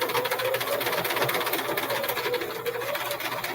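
Sewing machine stitching fabric along a template at a quarter-inch needle offset, giving a fast, steady mechanical chatter of rapid needle strokes, close and continuous, with no talking.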